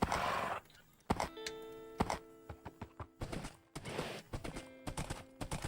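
Minecraft horse hooves clip-clop in an uneven trot, close and fairly loud, over a low game background with a sustained tonal hum.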